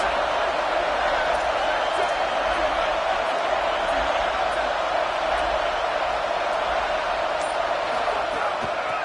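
A stadium crowd at an Ohio State Buckeyes football game roars steadily on a big third down, a loud, unbroken wash of cheering voices that never dips across the whole stretch.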